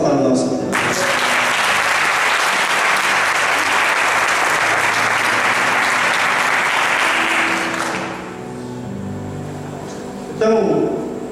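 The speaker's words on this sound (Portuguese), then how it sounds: "Aplausos para o nosso Deus." Church congregation applauding during a service, a dense sustained burst of clapping from many hands lasting about seven seconds before fading, followed by a speaker talking.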